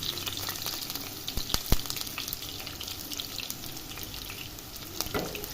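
Onion sliced into hot oil in a kadai, a soft continuous frying hiss with a few sharp stirring knocks near the start, fairly quiet and without speech.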